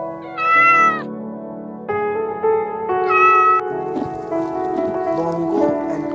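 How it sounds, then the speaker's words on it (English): A domestic cat meows several times, each call clear and close with rising-falling harmonic tones, separated by short pauses, with a steady low background hum. "cat,"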